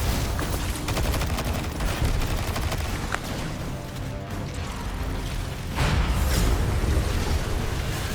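Turrets fire in the video game Destiny 2, rapid bursts of loud gunfire and booming shots running almost continuously, with heavier blasts toward the end.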